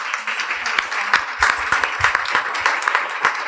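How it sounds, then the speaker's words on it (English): A room applauds a panel at a women's leadership event, brisk clapping with individual sharp claps standing out, moderately close and sustained. "Please, a huge round of applause for our panelists."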